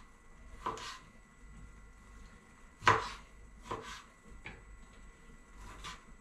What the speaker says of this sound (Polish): Pomidorki sobie na 2-3 razy kroimy.